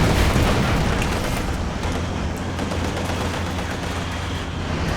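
Battle noise in Company of Heroes 2 as anti-tank guns fire on a Soviet T-34, a dense continuous roar of booms and gunfire filling the whole stretch at steady loudness.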